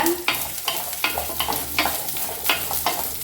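Shallots and grated coconut frying over medium heat in a pan for chicken curry, a steady sizzle broken by regular rhythmic stirring scrapes about every half second.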